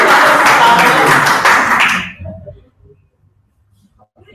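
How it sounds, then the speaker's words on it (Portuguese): A small group at a videoconference in Teresina claps in brief applause for about two seconds, then the clapping stops abruptly and near silence follows. "E as palmas para a gente."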